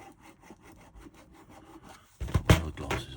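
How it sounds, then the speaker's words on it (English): Repeated light strokes of a small file rasp against the side pieces of a 009-scale Ffestiniog Railway Double Fairlie locomotive kit, soft and close at first, then a few louder, heavier scrapes toward the end, with no talk. "I'm going to start, I think, by filing back these side pieces just a little bit"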